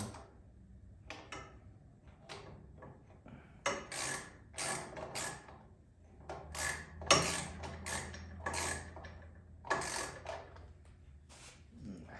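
Ratchet wrench snugging down bolts on the carburetor and plate of a 2014 Black Max generator, a run of short mechanical clicking bursts with brief pauses, close and fairly loud, no talking.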